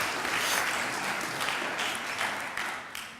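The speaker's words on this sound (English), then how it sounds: "You can applaud now." At a school honor society induction ceremony, an audience breaks into sustained applause, a soft, distant wash of many hands clapping that gently tapers toward the end.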